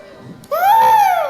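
A voices an elephant imitation at a seventh birthday party, a brief rising-then-falling trumpeting squeal after a short quiet breath, close and loud.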